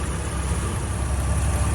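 A 4.0-liter straight-six engine in a 2004 Jeep TJ Rubicon idling steadily up close, a low even rumble with no voices.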